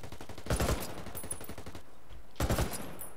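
Hostile gunfire in the video game Ghost Recon Wildlands comes in two sharp automatic bursts about two seconds apart, with rapid repeated shots rattling quietly between them.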